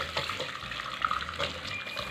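Boiled tapioca water pours steadily through a strainer in a home kitchen, a continuous splashing, gurgling rush of liquid that stays close and fairly loud throughout.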